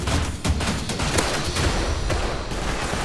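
Rapid gunfire in the survival game Rust during a raid, dense overlapping shots in a continuous loud burst of booms and cracks.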